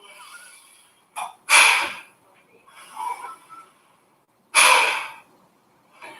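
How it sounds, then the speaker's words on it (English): Someone forcefully blows air out through the nose in two sharp, loud bursts a few seconds apart, with softer breathing between them. "power the air out through the nose."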